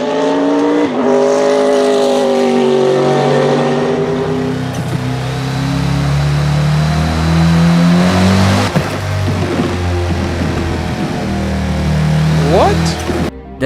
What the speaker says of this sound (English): Some car sounds are very unrealistic or are just awful.